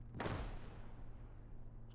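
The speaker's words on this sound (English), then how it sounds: "There's a 50 kilogram bomb. There it goes" A 50 kilogram aerial bomb explodes in the Gates of Hell: Ostfront video game, a single sharp blast with a deep rumble that fades quickly, fairly faint overall.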